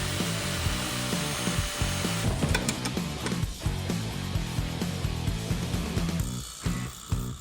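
An angle grinder cutting metal on a modified Opel Gsi car, a loud continuous whine with rough grinding bursts and scraping pulses, close up and uninterrupted by speech.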